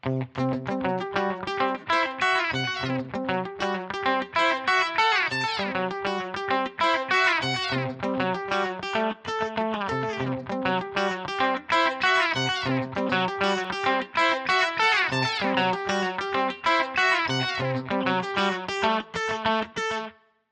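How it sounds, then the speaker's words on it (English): Dense electric guitar chords through a Line 6 Helix poly pitch delay ring out with a shimmering, pitch-shifted delay that cascades and layers harmonies, loud and continuous throughout. "So when I actually turn on the poly pitch effect"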